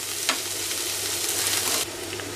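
Chopped fresh coriander with its stems sizzles in hot oil in a pan for veg Manchurian, a loud, steady frying hiss with light stirring scrapes, no voices.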